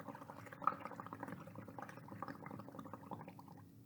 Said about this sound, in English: And now I'm going to blow more bubbles.